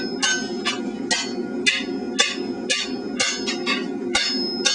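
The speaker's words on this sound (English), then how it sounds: "Again, using a heavy hammer to flatten out" Heavy hammer blows ring out while flattening angle iron at the forge, about a dozen sharp metallic strikes at a steady, slightly uneven rhythm, close and loud with a bell-like ring on each hit.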